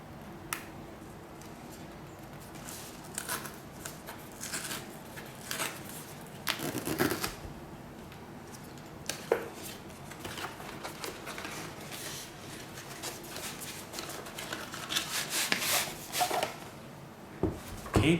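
Cardboard packaging of a GoPro HERO9 Black being opened at the tab, with scattered close crinkles, paper scrapes and tearing rustles in bursts over a quiet room, growing busier toward the end.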